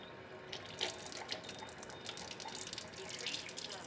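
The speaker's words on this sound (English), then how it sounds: "Now I'm going to run the flow of the water" Tap water runs steadily into a Kangen water ionizer machine indoors, a continuous close hiss with small splashy fluctuations and faint electronic beeps, no talking.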